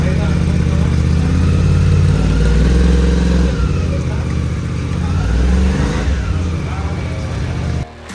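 Suzuki V-Strom 800DE adventure motorcycle engine running steadily up close with a loud, continuous mid-range drone and some revving, cutting off abruptly near the end; voices talk over it.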